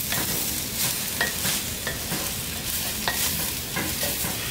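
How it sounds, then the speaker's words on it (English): Lentils and pumpkin or butternut squash being stirred in a pot cooked with olive oil, a steady scraping and sloshing with a soft sizzle underneath and a few sharper utensil knocks, close and continuous with no talking. "Give that another stir."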